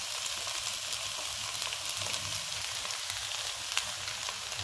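Eggplant pulp frying in a pan with oil, a steady, even sizzle that runs at constant loudness throughout with no one talking.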